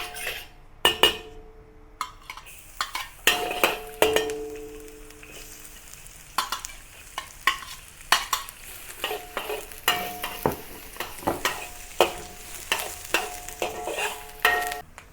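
Garlic and onion sauté in a tablespoon or two of oil in a wok, with a soft sizzle under frequent clanks and scrapes of a utensil stirring against the metal.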